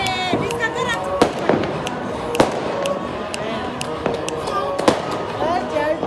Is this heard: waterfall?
no